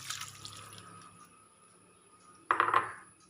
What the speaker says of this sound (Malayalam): പുളിയുടെ വെള്ളം ചേർത്ത് കൊടുക്കാം.